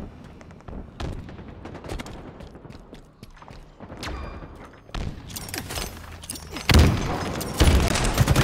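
Gunfire from a three-round burst weapon in a Halo Infinite Capture the Flag match, with sharp bursts and booms scattered throughout and a dense, loud barrage of shots near the end.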